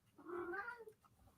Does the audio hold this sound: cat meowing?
yes